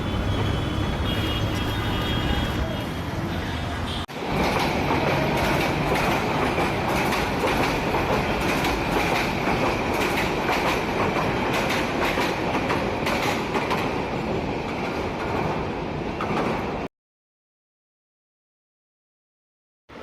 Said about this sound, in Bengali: rail crossing